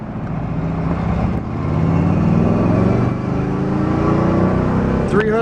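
A 1964 Chevrolet Impala SS with a 300-horsepower 327 V8 and four-speed manual runs steadily while driving, its loud, continuous engine drone rising slightly in the middle and holding without a break.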